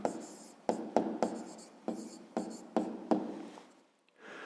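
A pen writes by hand on paper in a quiet room, a steady run of short scratchy strokes with small pauses between words, close and soft.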